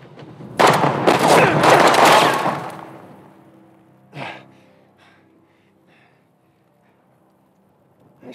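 In the video game Uncharted: The Lost Legacy, a loud burst of gunfire crashes out, followed by a sharp second shot and faint scattered clicks trailing off into quiet.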